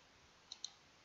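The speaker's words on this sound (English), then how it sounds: "Just click download, click save" Two quick, faint computer mouse clicks close together in an otherwise quiet room.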